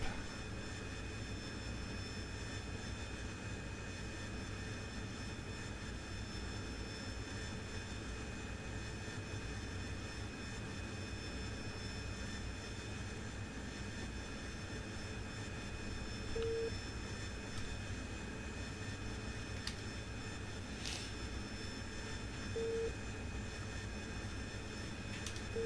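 AV-8B Harrier jet engine in the DCS flight simulator: a steady, faint cockpit engine drone with a constant turbine whine, unchanging throughout, and a couple of brief electronic beeps over it.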